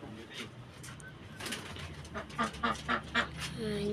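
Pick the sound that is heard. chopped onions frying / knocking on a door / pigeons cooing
pigeons cooing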